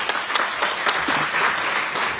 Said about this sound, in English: a big round of applause to the team that put it together